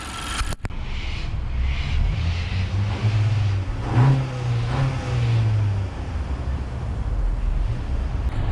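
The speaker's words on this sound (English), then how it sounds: "we shall move in to the exhaust note" Honda Civic engine and exhaust note, a steady low drone that swells briefly around the middle as revs rise, with wind rush over it and no talking.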